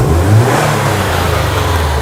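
2004 Subaru WRX STI engine revved in neutral, a steady, loud mid-range drone held close with a slight swell early on.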